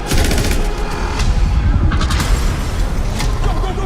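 Film trailer gunfire: a loud, dense fusillade of rapid automatic shots with booming impacts, continuous and close throughout, with a faint voice buried in the mix.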